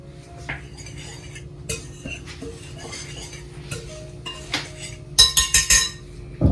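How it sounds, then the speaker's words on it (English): A whisk clinks and scrapes against a bowl while mixing flour, salt, baking powder and baking soda, light rhythmic tapping that grows into quick louder clatter near the end. "Give this a whisk."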